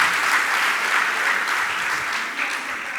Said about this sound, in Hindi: एक बार इनके लिए पुनः जोरदार तालियां।